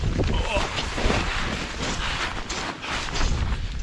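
Strong wind on a snowy mountain buffets the microphone near a dug snow hole, a loud continuous roaring rush with gusty swells and no clear talking over it.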